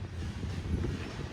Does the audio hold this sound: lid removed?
no